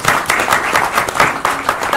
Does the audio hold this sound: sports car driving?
no